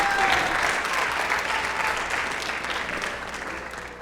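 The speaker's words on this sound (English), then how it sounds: "Once again, let's give a round of applause." Audience at a school senior awards ceremony claps steadily for about four seconds, a dense, even round of applause that tapers slightly toward the end, with no voices.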